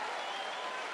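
Dense, steady roar of a basketball arena crowd cheering at a UCLA vs Denver college game, broad and continuous with no break through the whole moment.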